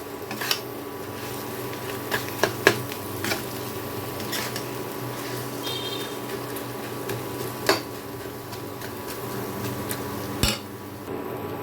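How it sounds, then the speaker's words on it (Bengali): Boiled, smashed potato is stirred into spices in a pan for a dosa filling, with soft scraping and occasional light clinks of a spoon against the pan at a low, steady level. "এখন এই আলুটাকে মশলার সাথে খুব ভালো করে মিশিয়ে নেবো"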